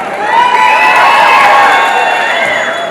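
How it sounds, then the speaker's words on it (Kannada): A crowd at a film pre-release event cheering and clapping in a sustained, loud swell with whoops and whistles, lasting a few seconds. "ಒಂದ್ಸಲ ಜೋರಾಗಿ ಚಪ್ಪಾಳೆ"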